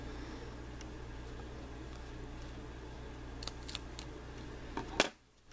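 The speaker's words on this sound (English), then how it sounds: "I'm just going to cut them out." Scissors snip the loose ends of crochet yarn on a crocheted rose pen, giving a few quick, crisp clicks near the end over a steady low hum, followed by a sudden drop to near silence.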